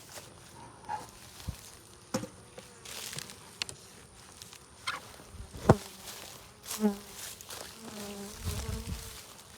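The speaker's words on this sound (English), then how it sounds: "That's a lot of bees" Many honey bees at a smoked hive drone in a steady, low buzz close by, with individual insects flying past louder now and then, and some faint knocks in the background.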